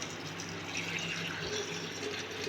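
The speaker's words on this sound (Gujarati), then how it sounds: "આપણે ચોખ્ખું પાણી નાખશું અંદર." Clean water pours steadily into a glass jar of bila pickle, a continuous close gurgling fill with no pauses and no talking.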